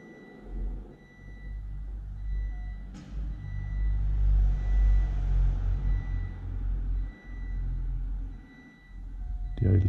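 A Triumph Rocket III motorcycle engine idles nearby with a steady low rumble that surges and dips slightly as the idle speed wanders, with a brief sharp click near the start and another at the end.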